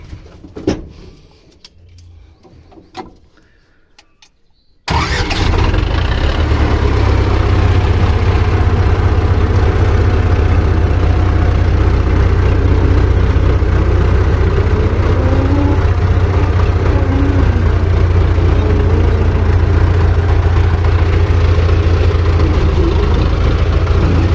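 An old YuMZ-6 tractor engine roars to life after a few quiet seconds of faint clicks and knocks. It then runs loud and close in a constant, rough diesel drone.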